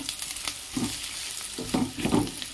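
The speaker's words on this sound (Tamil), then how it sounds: "வெங்காயம் வணங்குறப்பவே இந்த சாம்பார் தூள், கொஞ்சம் மிளகாத்தூள் இதை போட்டு அந்த எண்ணெயிலேயே வணக்கிடுங்க." Onions with sambar powder and chilli powder sauté in oil, a soft steady sizzle broken by several scraping stirs of a spoon in the pan, close and without talk.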